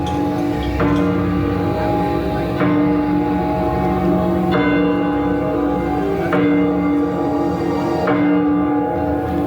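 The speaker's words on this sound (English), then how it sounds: "That's the real bell, chiming 9 p.m." A large bell at Epic Universe theme park tolls at 9 p.m., a series of loud, evenly spaced strikes roughly every two seconds with long ringing overtones, set against a steady crowd murmur.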